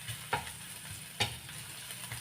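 Garlic browning in a frying pan, a steady soft sizzle with two sharper stirring scrapes, close and fairly quiet, no talking.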